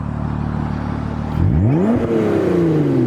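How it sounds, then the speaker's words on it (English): Lotus Evora S with a straight-pipe exhaust revs hard from a steady loud idle, its note sweeping up sharply, then holding high and rough before easing; close and loud, with no talk. "Go ahead and rev it up."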